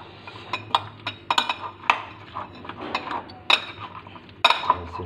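A spoon clinks against a bowl while chana chaat is mixed: quick, bright metallic taps in an irregular stirring rhythm, close and fairly loud, with a soft scraping between strikes.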